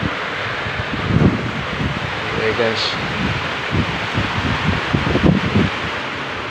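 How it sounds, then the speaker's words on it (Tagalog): Steady, roaring wind buffets the microphone on a rooftop in Batangas during Typhoon Aghon, with gusty rustling throughout while a person briefly exclaims over it. "Pero sobrang lamig at sobrang lakas ng hangin."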